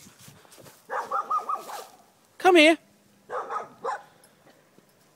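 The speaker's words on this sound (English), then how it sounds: "She's just yelling at the other people's dogs." A dog barks repeatedly at other dogs being walked past, a few close bursts with a sharp yelp in the middle, while a person talks nearby between the barks.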